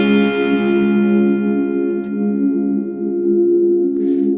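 A Strymon Iridium reverb pedal holds a sustained guitar pad with haze, a loud, smooth, steady chord wash that hangs evenly throughout and fades slightly near the end, with no voices.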